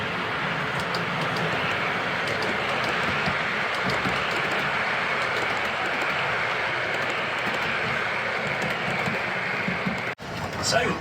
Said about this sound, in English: trains are running